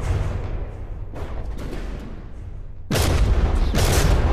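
CRAM cannons in From the Depths fire in heavy rolling booms, a muffled volley early on and then a loud, close burst of repeated blasts near the end.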